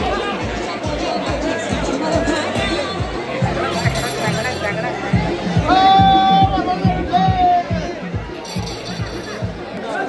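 A dense crowd at Jejuri temple makes loud, continuous chatter and babble nearby, with occasional metallic clinks and a bright chime or bell tone rising briefly above the hubbub.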